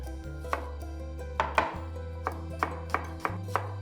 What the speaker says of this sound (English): We'll move on to cutting a red onion.